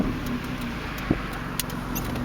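A Nissan Sentra B15 fitted with new headers runs at a steady, rumbling idle, the exhaust droning continuously with a couple of small knocks.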